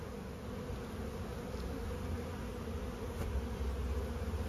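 Honeybees buzz at a hive entrance during a spring inspection, a dense continuous hum of many insects close by, with occasional individual bees passing nearer, and no talking.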